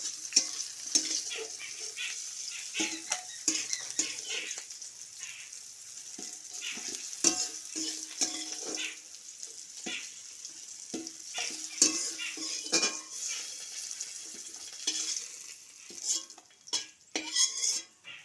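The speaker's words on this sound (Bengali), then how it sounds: "করলাগুলো ভাজা হয়ে গেছে লাল লাল করে এরপর তুলে নেবো" Bitter gourd slices frying in oil in a wok, a soft steady sizzle beneath repeated clinks and scrapes of a metal spatula as the pieces are stirred and lifted out; no talking.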